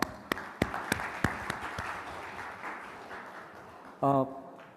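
Audience applause at a nasscom Future of Work summit, a few sharp claps followed by a soft, steady patter of clapping from the crowd, fading out before a brief tonal sound.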